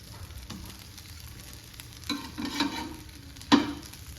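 Poha cutlets fry in a shallow pan, a soft steady sizzle with a few louder bursts and scrapes as they are flipped.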